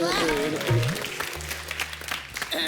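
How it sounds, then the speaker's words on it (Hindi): Loud applause from the audience at a Hindi comedy mushaira evening, welcoming two singers; dense clapping runs throughout, partly overlapping with a host's voice and music. "इनके लिए जोरदार तालियां"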